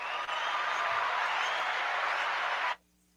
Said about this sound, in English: Everyone's clapping for me.